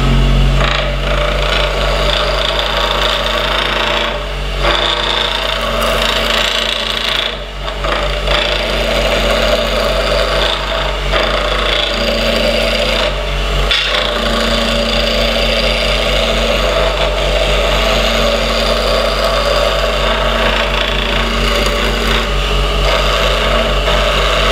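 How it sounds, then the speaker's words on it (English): A wood lathe turns a bocote hairpin blank while a skew chisel cuts it round, producing a constant loud motor hum with steady scraping and rasping and a couple of brief dips where the tool lifts off. "use the skew chisel and just get it round"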